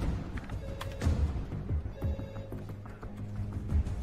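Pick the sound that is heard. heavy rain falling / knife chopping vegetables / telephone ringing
telephone ringing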